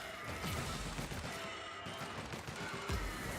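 Dense, continuous gunfire from The Outer Worlds, a steady clatter of rapid shots with crashes layered through it, holding at a moderate level for the whole stretch with no one talking.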